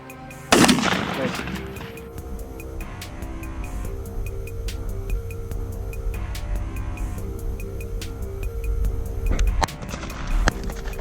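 A loud shotgun blast cracks out near the start during a pigeon hunt, followed by outdoor background noise and a few faint knocks, with a voice speaking briefly.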